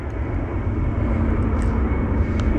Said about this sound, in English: there is so many planes around today